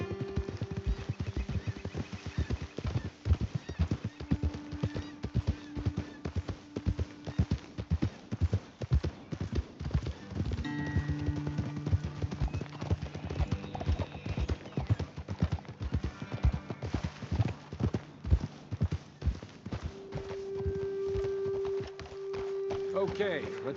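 Rhythmic horse hoofbeats clip-clop steadily for the whole stretch in the video game Red Dead Redemption 2, with occasional whinnies and someone talking over them.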